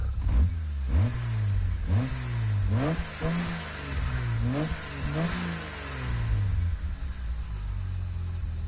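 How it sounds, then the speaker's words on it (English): A beefy Jaguar inline-six in Gran Turismo 7 cranks to life and revs repeatedly, several rising and falling throttle blips over a steady idle rumble, loud and close with no talking. "Let's hear that thing start. That beefy inline 6."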